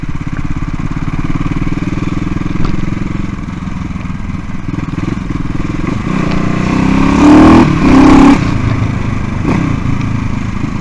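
A CCM Bobber motorcycle accelerating on an open road, its engine a loud, continuous rumble with wind buffeting that swells into a stronger surge of revs near the end, heard from the rider's position.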